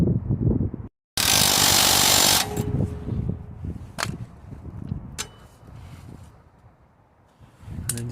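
Power tool tightens a suspension bolt on a Ford Fiesta during a front coil spring and shock absorber job, one loud sustained whirring burst lasting over a second, followed by quieter clanks and workshop handling noises.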